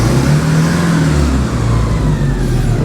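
A Porsche 944 Turbo engine runs at a steady low drone, close and loud, with a slight rise in pitch partway through and no talking.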